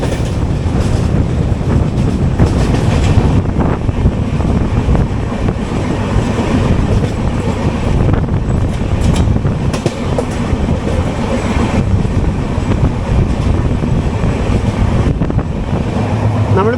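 Janmabhoomi Express, an East Coast Railway rake, runs steadily with a continuous loud rumble and rattle of wheels on rails, heard from on board with wind noise and no talk.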